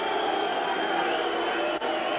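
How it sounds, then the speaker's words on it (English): Crowd at Millmoor during a Rotherham United v QPR match booing, a steady, loud wall of massed voices that barely lets up, with only a brief dip near the end. "Booing all around Millmoor"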